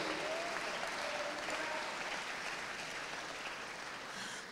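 Church congregation clapping in praise during a worship service, a faint, even wash of applause with a few vocal tones in it, fading slightly near the end.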